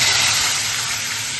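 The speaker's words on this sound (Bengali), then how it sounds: "তেলটা গরম হয়ে গেছে, এর মধ্যে একটু জিরে ফোড়ন দেব" Cumin seeds crackle in hot oil with a steady, close, bright hiss that holds evenly for a moment with no voices.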